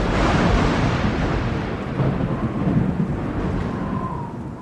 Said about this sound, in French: Voilà un orage supercellulaire, le plus impressionnant et le plus dangereux qui soit